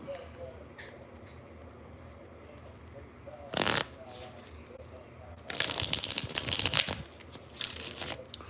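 Tarot cards being shuffled close by, with a short riffle burst around the middle and a longer, louder stretch of riffling and snapping near the end, over a quiet room background.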